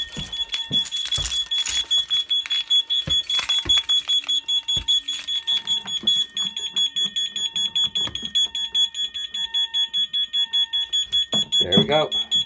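A C-Tec fire alarm system sounds during a test with a shrill, steady high-pitched tone that later pulses in a rapid regular beat, loud and close, with a person talking over the start.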